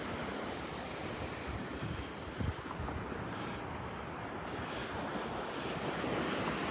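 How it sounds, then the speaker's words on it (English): Steady ocean surf washes onto the beach at Delnor-Wiggins, a continuous broadband roar with some wind buffeting the microphone and no voices. "The water in the background."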